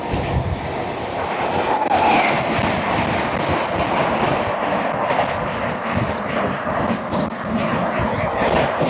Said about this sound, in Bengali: আমাদের সঙ্গে দেখা হবে ট্রেন নম্বর 22-823 ভুবনেশ্বর থেকে নতুন দিল্লি তেজস রাজধানী এক্সপ্রেস ভায়া টাটানগর